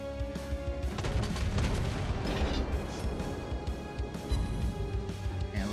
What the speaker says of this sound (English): And let's get this main guns going.